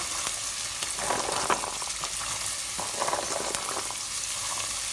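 Carrots frying in a pan as the first step of party fried rice, a steady close sizzle running throughout with a few brief louder crackles, no voices.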